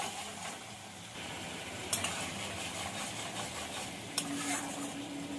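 A ground paste of ginger, cumin, chilli and garlic with turmeric frying in a pan, a low steady sizzle under quiet stirring, with two sharp utensil knocks against the pan.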